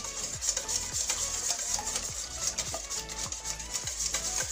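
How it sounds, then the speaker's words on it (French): Eggs beaten in a bowl for a pear and goat cheese cake, a fast rhythmic clatter of whisk or fork strokes repeating about once a second, close and steady. "Après, tu mélanges les œufs."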